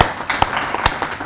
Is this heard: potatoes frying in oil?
no